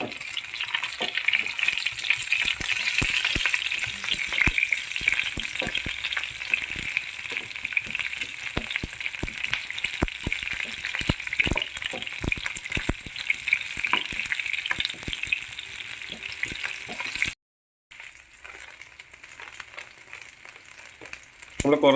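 Shallots and dried red chillies sauté in a pan for a tomato chutney, a steady close sizzle and crackle of frying with occasional stirring, briefly cutting out near the end before resuming.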